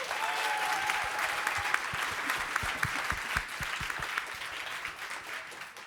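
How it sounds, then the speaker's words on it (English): An audience at a pitch festival breaks into applause, a steady, fairly dense wash of clapping hands heard from across the room that holds its strength throughout and eases off slightly toward the end. "Let's give him a round of applause."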